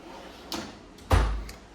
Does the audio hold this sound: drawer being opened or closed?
yes